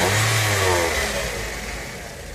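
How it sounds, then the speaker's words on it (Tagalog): A Toyota Vios engine, running hot and rough with a suspected internal noise, is revved lightly: a steady mid-pitched engine drone that swells briefly and then eases off, heard close and alone. "Paribusin mo lang, daan-daan."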